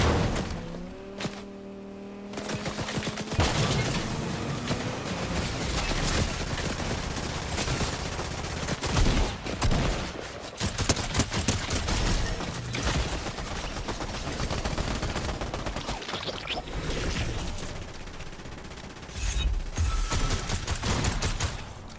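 Gunfire in the video game Fortnite comes as dense, loud bursts of rapid shots and explosive cracks across a chaotic battle. Engine-like roars and brief pauses break it up, with no talking.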